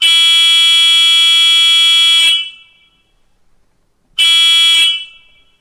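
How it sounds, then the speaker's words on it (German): Two long electronic horn blasts from a Spur 1 gauge BR 381 model shunting locomotive, loud and close, the first about two seconds, a short pause, then a shorter second blast. "Das Modell hat eine Hupe in Abhängigkeit von der Länge des Tastendrucks."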